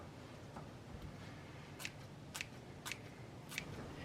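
Scissors snip through capsicum four times in a steady rhythm, crisp close cuts standing out over a quiet kitchen background.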